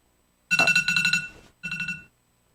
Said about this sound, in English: Thanks, Siri, for playing a notification alarm sound.